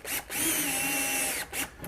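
A power drill tightens bolts during pool table assembly, a close whirring motor run of about a second, framed by short revving bursts before and after.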